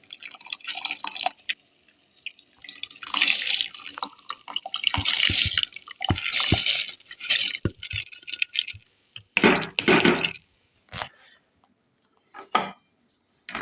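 Rice tipped into a pot of boiling water for beef keema pulao, with splashing, pouring grains and clanking utensils in irregular bursts, fairly loud and close, broken by pauses.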